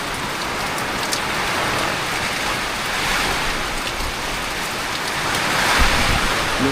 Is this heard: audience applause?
no